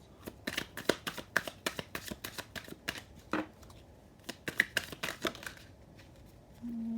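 A deck of tarot cards being shuffled by hand up close, a rapid series of crisp riffling slaps and flicks in irregular bursts, quiet and alone with no talk.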